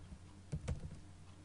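A few quiet keystrokes on a computer keyboard while coding HTML and CSS, soft clicks in a short cluster against a low steady background hum.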